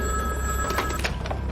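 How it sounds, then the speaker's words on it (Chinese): An old-fashioned telephone bell rings in a 1920s Shanghai mystery drama scene, a continuous bright trilling ring with a low hum underneath, fairly close and with no talk over it. "门卫听到电话铃响"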